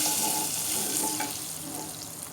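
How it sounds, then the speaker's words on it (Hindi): Dal is poured into a freshly made, sizzling baghar tempering in a pan, producing a loud, steady frying hiss with crackling bubbles that eases slightly toward the end. "ये बन के तैयार हो चुका है बघार। चलिए जी, ये दाल भी शामिल कर देंगे आधा।"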